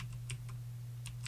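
A handful of crisp keyboard clicks tap out on a computer keyboard, spaced irregularly and close by, over a steady low electrical hum.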